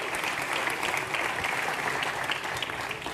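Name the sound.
audience applause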